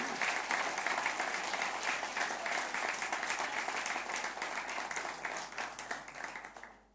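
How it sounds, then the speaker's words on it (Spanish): A church congregation applauds during a Spanish-language sermon, dense steady clapping that fills the room for several seconds and then fades out at the very end. "dale un aplauso a Él"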